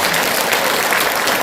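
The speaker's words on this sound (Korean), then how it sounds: "우리 자신을 위해 큰 박수 부탁드립니다." Audience applause at an award ceremony for outstanding council members: a dense, steady wash of many hands clapping, loud and continuous throughout with no gaps.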